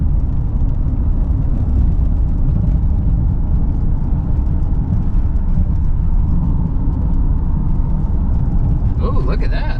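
A 1996 Mercury Cougar XR7, back on the road after sitting for years, cruises along with a steady engine and road rumble throughout, with a brief clatter near the end.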